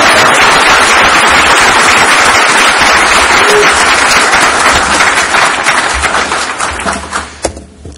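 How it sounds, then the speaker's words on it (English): A conference audience at the YAPC::NA 2012 Perl gathering applauds its sponsors with loud, dense clapping that holds steady, then thins out and dies away into a few scattered claps at the end. "I'd like to hear a round of applause for all of our sponsors"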